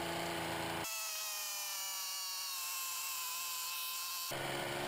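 3D printed supercharger with oil-lubricated blades spinning up on a test rig, a steady high-pitched whine holding for several seconds between harsher mechanical noise at the start and end, close and constant.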